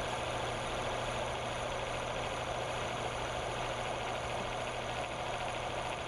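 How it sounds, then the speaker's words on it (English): An electric motor test rig runs under a load of four weights, giving a steady, continuous mechanical hum and whine with constant vibration, unchanging at a moderate level throughout, with no talking. "Now we'll turn on the motor and add the load."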